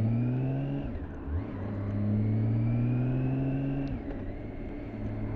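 Six-cylinder engine of a BMW K1600GT SE touring motorcycle rising and settling through low-speed throttle changes, a steady close drone with pitch sweeping up, dipping, and climbing again over about five seconds, no talking.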